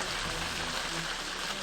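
Rain beats down on the roof of a cabin workshop in a steady, dense patter heard from inside, continuous and moderately loud with no voices.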